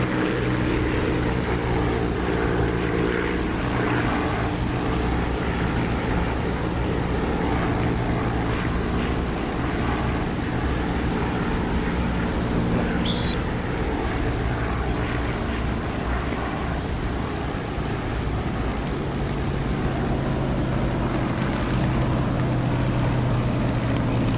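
A propeller aircraft engine drones steadily and loudly on a runway in the DCS flight simulator, a continuous hum that swells slightly partway through.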